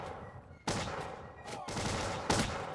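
Musket gunfire in the Bannerlord Empires of Europe 1700 mod, with three sharp shots from a musket battle cracking out over a continuous busy battlefield din, each followed by a short rumbling tail.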